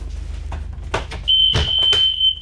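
A steady, piercing electronic alarm tone starts partway through on a bus during a safety check, sounding continuously over background rumble and clatter.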